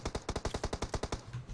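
Automatic weapon fire in PUBG Mobile, a quick evenly spaced string of about a dozen sharp shots in rhythmic succession, moderately quiet and heard alone.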